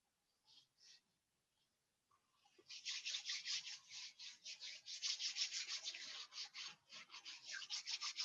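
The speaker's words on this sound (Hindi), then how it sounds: "हम थोड़ा बॉडी को रब कर लेंगे।" Hands rubbing briskly over the body during a morning sound-meditation session, a dry rhythmic swishing that starts with two brief strokes, then runs steadily and fairly close for about six seconds, with no talking.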